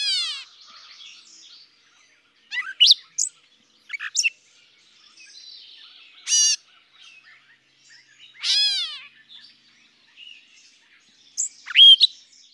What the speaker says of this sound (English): this meow sound where it gets its name from, its catbird sound